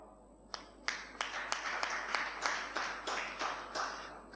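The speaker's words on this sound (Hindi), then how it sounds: "आप तालियां कितनी बजाइए" An audience applauding at a Teacher's Day talk, with a steady run of roughly a dozen distinct claps at a moderate distance, fairly faint and with no voices over them.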